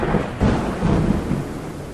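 Thunder from a thunderstorm rolls continuously with deep rumbling, swelling in loud surges and never fully fading, with a faint wash of rain beneath and no voices.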